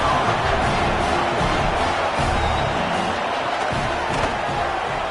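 A college football stadium crowd roaring after a Scarlet Knights touchdown, a dense, loud, continuous wall of cheering and shouting with no letup.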